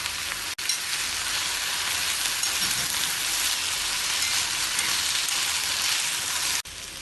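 Potato and brinjal frying with turmeric, chilli powder and salt in a pan, giving a loud, continuous crackling sizzle throughout with brief stirring clatter at the start and end.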